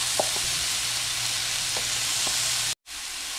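Pork bites searing in a smoking-hot pan give a loud, steady broadband sizzle with a few soft clicks of the pieces shifting, then a brief cut to silence before the sizzle resumes.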